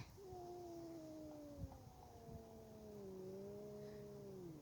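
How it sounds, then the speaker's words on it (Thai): Two neighbourhood cats face off in a fight, letting out long, low, wavering caterwauls and yowls that overlap and drag on, faint and slightly distant against outdoor background noise. "เรามาดูแมวมันกำลังทะเลาะกันค่ะทุกคน"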